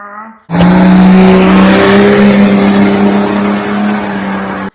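Loud, close drag racing car engine roaring at high revs at the Fossil Races at Beech Bend, holding a steady howl with a slight pitch drop of 100 to 200 RPM as it shifts.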